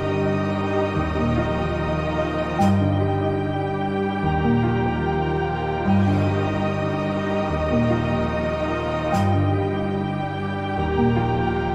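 A looped melody for a beat plays from layered stems, with sustained bass notes and chords changing in a steady repeating pattern, with crisp hits recurring every few seconds and no talking.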